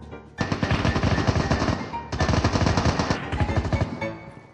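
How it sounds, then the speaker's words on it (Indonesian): Rapid automatic gunfire in Call of Duty: Mobile, loud and close, two sustained bursts of rattling shots separated by a brief pause, with no voices over it. "Gunshotnya kayak di bawah gitu."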